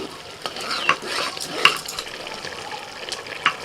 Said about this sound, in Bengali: এইভাবে একটু নাড়াচাড়া করে দিচ্ছি।